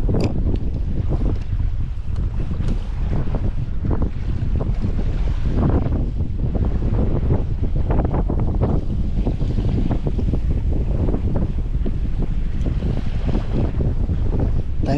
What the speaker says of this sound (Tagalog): Kaya pala malakas na ang hangin, tanghali na.